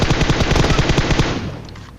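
Rapid bursts of automatic gunfire in PUBG Mobile rattle loudly in a steady rhythm, then cut off and fade into a short tail.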